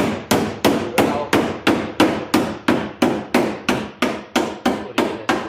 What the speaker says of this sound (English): The hammer at this point in time is going to be your best friend.